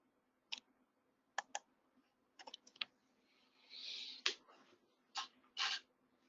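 Sharp computer mouse clicks while installing server software, isolated quick clicks and short double clicks spread out irregularly in a quiet room, with a brief soft rustle midway.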